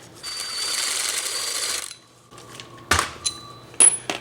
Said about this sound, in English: we're going to use the impact just to get everything off there